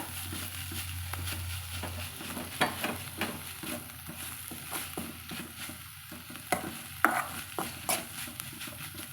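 Drumstick leaf stir-fry with grated coconut being mixed in a pan, a run of quick close scraping strokes over a low steady sizzle, with no voices.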